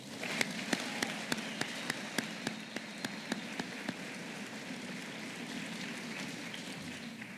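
Graduation-ceremony audience applause, a dense steady wash of many hands clapping in a hall with a few sharper individual claps standing out in the first half, no talk over it.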